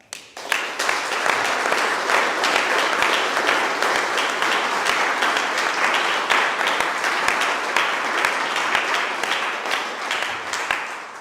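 Audience applause at a Victory Day anti-fascist commemoration rally, sustained and evenly dense, with many sharp individual claps standing out throughout.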